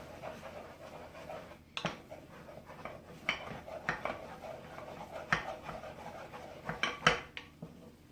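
Choux pastry dough being stirred with a wooden spoon in a pot, giving soft scraping, thudding strokes at an uneven rhythm, close up and fairly quiet.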